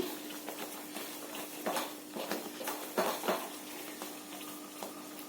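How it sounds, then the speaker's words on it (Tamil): A spoon scrapes and stirs a ghee mixture in a pan, soft intermittent scraping and metallic clinks at close range, fairly quiet, over a steady low hum. "இந்த சைடெல்லாம் எடுத்து விட்டு கலக்கணும்"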